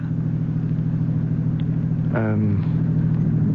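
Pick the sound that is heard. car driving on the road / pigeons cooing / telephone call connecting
car driving on the road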